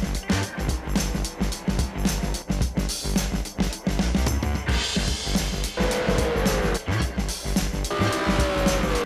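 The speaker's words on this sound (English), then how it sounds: "Okay, now for a real car, the Renault Sport, the RS1." A Renault Sport RS1 race car with a 3.8-litre twin-turbo V6 drives hard, its engine pulsing in rapid rhythmic bursts while tires squeal in rising whines, loud and close with no talk.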